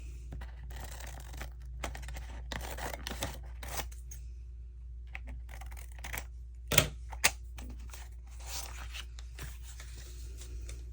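Scissors snip paper trimmed from a large glossy garden book, with faint, scattered cuts and pauses between them and a couple of sharper snips partway through, all in a quiet room.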